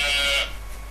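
A sheep or other farm animal in a video game gives a short, bright, bleating call that stops suddenly, followed by a quiet pause.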